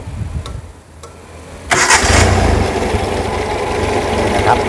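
A Volvo 244 engine with a Weber carburetor starts up after a few faint clicks, catching abruptly and settling into a loud, steady idle close by, with no talk.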